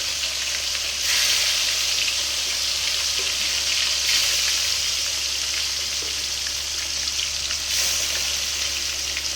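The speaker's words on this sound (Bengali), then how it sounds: "কাতলা মাছগুলো আগে দিয়ে দিলাম, এগুলো ভাজা হবে এবার" Pieces of katla fish fry in hot oil, making a steady, dense close sizzle and sputter that swells in loud bursts every few seconds.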